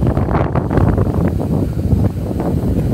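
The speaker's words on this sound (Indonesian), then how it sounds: "Oh, anginnya keras sekali." Strong outdoor wind buffeting a microphone on an action camera during a flight with a DJI Phantom drone, a loud continuous roaring rumble with gusty surges throughout.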